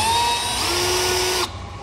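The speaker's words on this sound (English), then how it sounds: "Now we are going to start with a small drill bit just to get a pilot hole going." A power drill with a small bit whines steadily while boring a pilot hole through a pickup truck bed for an underbed gooseneck trailer hitch, then stops abruptly near the end.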